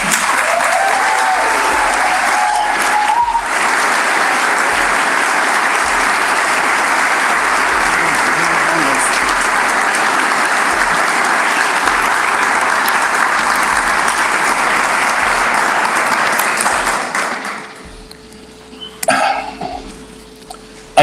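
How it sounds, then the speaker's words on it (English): A community reading audience breaks into loud, sustained applause for about seventeen seconds. The clapping then fades out, leaving a few scattered claps and quiet room noise. "I know you just clapped"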